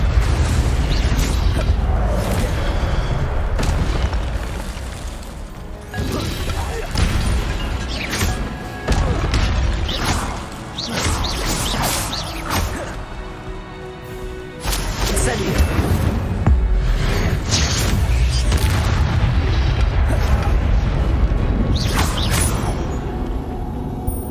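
An Incendio fire spell cast in Hogwarts Legacy on PS5 brings a dense stream of booming bursts, crashes and thuds amid busy game sound, loud and close, with several sharp impacts throughout.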